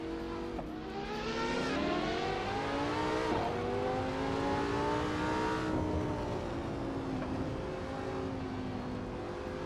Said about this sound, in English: I love this car, man.